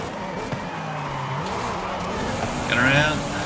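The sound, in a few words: car engine in a racing video game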